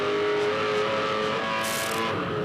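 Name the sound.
Supercar race car engine, 2006 Darwin race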